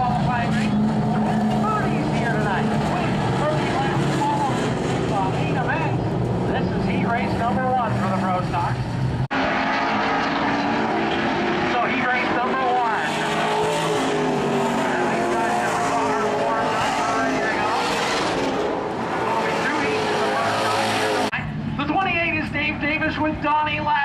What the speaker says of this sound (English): Tier two is the pro stocks as they make their way out onto the speedway for their first qualifying race.